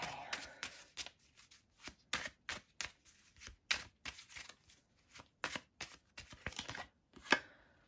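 Message cards handled and shuffled at close range, a rapid, fairly faint series of crisp slaps and flicks with short pauses between bursts, no voices.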